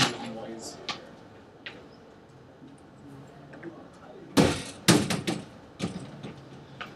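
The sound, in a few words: door being closed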